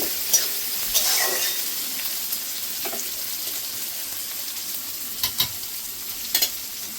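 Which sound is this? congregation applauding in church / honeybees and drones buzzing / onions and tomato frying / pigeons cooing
onions and tomato frying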